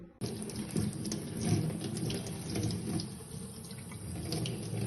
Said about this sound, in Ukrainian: ми будемо його промивати водою